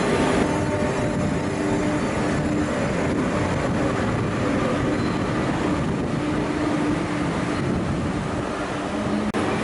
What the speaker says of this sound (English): We now need to take the metro to get to our final stop.